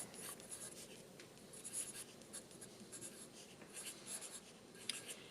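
Pen on paper writing measurements onto an architectural drawing, soft continuous scratchy strokes in short bursts, close and quiet, with no voices.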